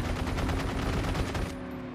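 Gunfire in a Call of Duty Mobile battle royale match, rapid automatic bursts of shots, loud and dense, continuing without pause until a sudden drop near the end.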